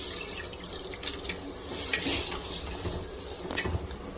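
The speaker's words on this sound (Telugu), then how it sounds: "అందులో వేసేసి శుభ్రంగా కడిగేద్దాం" Half a kilo of okra is washed in a basin of water with rock salt, giving soft splashing and running-water sounds with light clinks of a vessel, close and fairly quiet.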